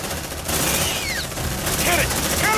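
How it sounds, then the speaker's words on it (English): Sustained gunfire from a deployed sentry gun in Aliens: Dark Descent rattles loud and continuous, with a voice shouting over it and short whooshing and whining effects mixed in. "Deploying sentry gun!"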